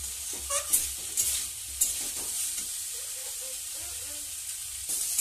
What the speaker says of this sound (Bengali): দিয়ে খুন্তি দিয়ে নাড়িয়ে নিচ্ছি ভালো করে